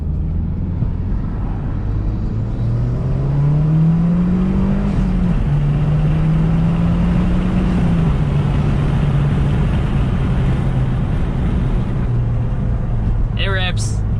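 A Mazdaspeed 6 with upgraded high-pressure fuel pump internals pulls hard in second gear, its engine note rising steadily and loud over a droning cabin rumble, ending with a brief sharp squeal.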